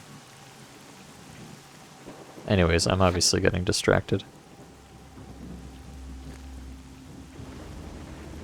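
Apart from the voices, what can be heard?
rain heard indoors in Call of Pripyat video game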